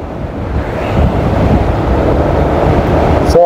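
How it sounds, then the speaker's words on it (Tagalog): Strong wind roars steadily past the microphone during a road bicycle race on a bypass road, a loud, continuous buffeting rush with no talk. "malakas yung hangin."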